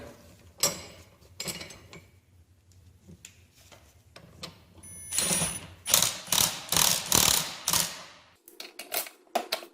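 A gear puller is worked against a bolt on a 45-year-old engine during teardown, giving bursts of sharp metallic clicks and ratcheting clatter, sparse at first, then a dense rapid run of loud clacks before a brief pause and a few final clicks.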